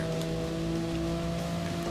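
Steady rain and spray hiss during a wet race in a racing video game, a broad constant wash with a low engine drone underneath, no talk.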